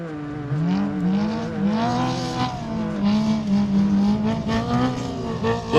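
UTVs and high-horsepower off-road race vehicles on the NORRA Baja rally stage from Loreto to La Paz, engines droning and revving with rising and falling pitch as they pass, loud and continuous.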